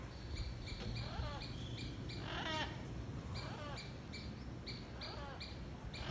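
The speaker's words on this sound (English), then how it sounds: "three big parrots." Three large wild parrots perched in a tree just outside a house in Progreso, Yucatan give repeated harsh squawks in short bursts, fairly near over a noisy outdoor background.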